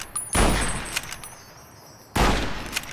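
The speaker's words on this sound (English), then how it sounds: "Gotta shoot that gecko first." Two sharp, loud gunshots ring out at a gecko in Fallout: New Vegas, spaced almost two seconds apart, each with a short echoing tail, and no talking.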